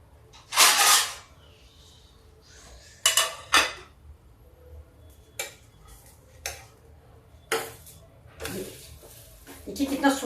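An eggless besan (chickpea flour) omelette being flipped in a pan, marked by a few sharp spatula scrapes and clinks against the pan separated by quiet pauses, with a voice speaking between them.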